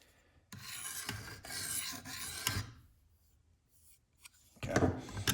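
CPM-10V steel knife blade drawn across a 320 grit stone in light finishing strokes, a few close rasping scrapes in separate passes with short pauses between them.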